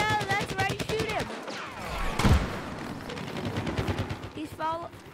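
Gunfire in Plants vs. Zombies Garden Warfare, rapid cartoonish shots and a heavy blast near the middle, mixed with game effects under steady talk from players.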